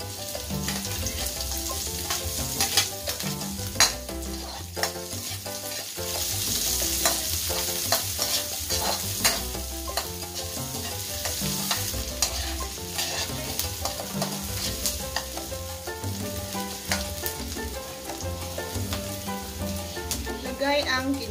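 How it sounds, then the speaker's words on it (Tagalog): Garlic and onion sauté in a hot pan for Filipino baked spaghetti, a loud continuous sizzle crackling alongside constant clattering stirring, with no voices. "Gisa po natin ng bawang, yung bawang."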